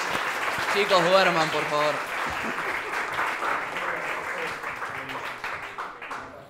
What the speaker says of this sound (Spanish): Un aplauso de vuelta.